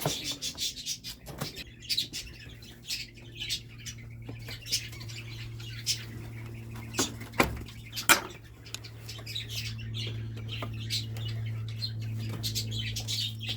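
Farm-kept pheasants making occasional sharp squawks and calls with a few bursts of wing flapping, over a low steady hum.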